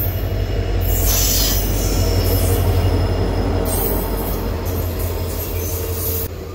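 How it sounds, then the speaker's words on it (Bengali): The Agartala–Silchar passenger train rolls through a railway station, its wheels squealing steadily against the rails over a loud, continuous rumble of railcars that holds for the whole stretch with no talking. "এই যে ট্রেনটা, এটা আগরতলা থেকে শিলচর যায়, এখন শিলচর যাচ্ছে।"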